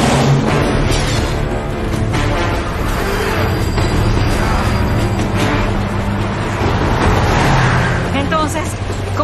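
A car accelerates hard in Uncharted 2 alongside a moving train, a loud engine roar mixed with rumbling road noise and a few thuds, with voices talking over it.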